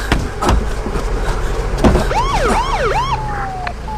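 A police car siren wails in rising and falling sweeps over street noise, close and loud, cutting in after a few seconds of traffic rumble and thumps.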